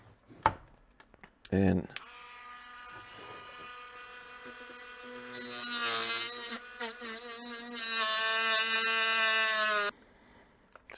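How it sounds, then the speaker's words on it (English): A Dremel rotary tool whines at high pitch as it cuts into a motorcycle's plastic air box, a steady close buzz lasting about eight seconds with the pitch shifting and stuttering under load, preceded by a few brief handling clicks. "I got my Dremel, so I'm going to make a little cut here"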